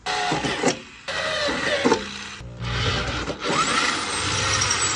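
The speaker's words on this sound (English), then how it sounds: "you can begin to drill your new hardware mounting holes in their locations" A power drill whines and grinds in several bursts, drilling mounting holes in a vehicle fender for rock lights, stopping and restarting, with metallic scraping and a rising motor pitch near the end.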